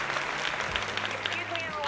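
Brief burst of applause from a crowd in a Sims 4 livestream, a steady patter of clapping lasting a couple of seconds and mixed with a voice talking over it.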